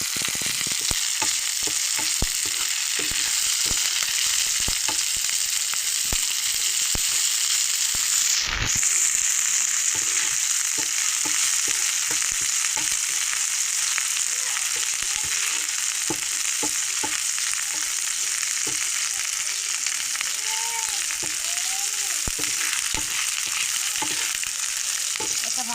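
Vegetables for a vegetable pulao fry in a pan with a steady, dense sizzle and crackle throughout, close and loud, with occasional stirring clatters and no talk.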